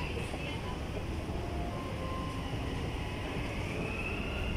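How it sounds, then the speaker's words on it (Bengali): A metro train pulls away from a high elevated station in Dubai, a steady low rumble and rolling rail noise heard from a distance, fairly quiet and unbroken, with no voices. "এই দেখতে পাচ্ছেন মেট্রো চলে যাচ্ছে"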